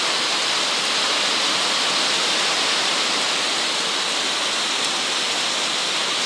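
Floodwater rushing during a first heavy rain, a dense, steady, loud hiss of pouring and running water close by with no pauses and no voices.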